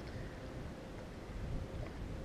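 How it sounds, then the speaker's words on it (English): Steady, soft wind noise outdoors at a lakeside fishing spot near an RV, a low continuous rushing buffet across the microphone with no other distinct sounds. "Wind's picking up, which is good."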